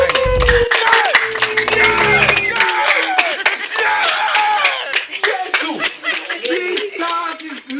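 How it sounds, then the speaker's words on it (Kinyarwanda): A crowd welcoming guests fills the space with dense clapping and high, warbling ululation. A voice speaks briefly at the start, then rhythmic hand claps and trilling cries carry on loudly throughout. "Basanga mwifashe mwiza amashyi ndetse n'impundu dushimira abashyitsi bacu."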